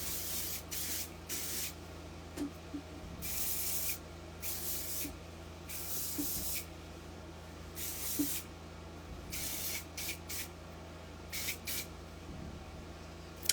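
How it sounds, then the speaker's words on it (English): IGK Please Hold flexible hairspray sprayed in short hissing bursts, roughly a dozen quick spritzes at an irregular pace, close and fairly quiet in a calm room. "It's a flexible hairspray."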